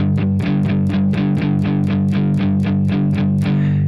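Distorted electric guitar chugs a palm-muted power chord riff in steady eighth notes from the verse of a song, loud and close, with a chord change near the end and a ringing release.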